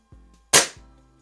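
A Crosman Model 100 air rifle fires once with a sharp, close crack and short decay, framed by faint mechanical clicks before and after.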